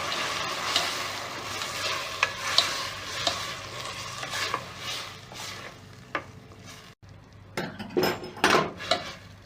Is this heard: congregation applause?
no